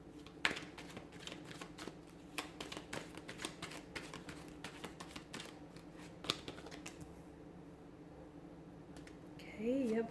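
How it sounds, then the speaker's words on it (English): Rapid papery clicks and riffling of tarot cards being shuffled, repeated in bursts with a soft voice underneath, ending in a louder rustle. "So we'll give the cards a shuffle"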